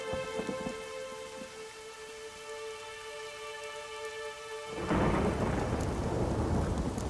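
A thunderstorm from the video game The Witcher 3: Wild Hunt starts with a low rumble over a steady tone, then heavy rain crashes in loud and dense and keeps pouring.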